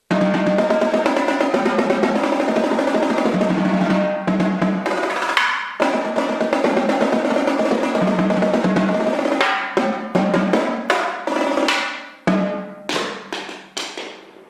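Marching tenor drums tuned high and tight, played in steady rapid patterns with sharp attacks, loud and close, ending in a series of separate accented hits.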